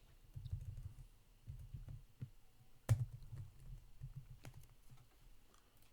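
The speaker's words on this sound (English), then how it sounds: "Forgive my typing." Quiet, uneven tapping of a computer keyboard, bursts of soft clicks with short pauses and one sharper keystroke, heard close and alone.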